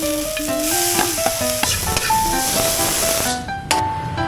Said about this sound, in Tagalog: Una nating uulamin yung kangkong at eto lulutuin na natin.